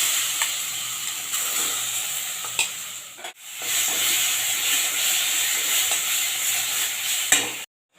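Ground yardlong bean paste with onion, garlic and chili hits hot oil with fried black cumin, a loud steady sizzle and hiss with stirring clicks, briefly interrupted midway and cut off at the end.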